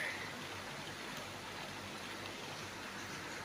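Steady rain falls outside a window, a continuous broadband hiss of drops with no pauses, moderately quiet and heard alone with no voices.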